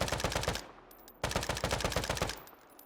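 Automatic fire from a modded N4 rifle in the shooter game Deadside, two fast, loud bursts of rapid shots with a short pause between them and a ringing tail after each.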